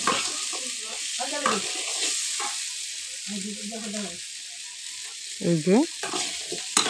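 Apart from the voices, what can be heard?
potatoes frying with salt and turmeric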